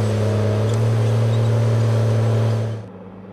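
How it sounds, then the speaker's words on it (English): Steady hydrostatic drone of a Tigercat skidder hauling wood to the deck, a strong low engine hum holding even for nearly three seconds before cutting off abruptly into quiet. "the smooth, continuous hydrostatic pulling power allows Tigercat skidders to transport wood to the deck"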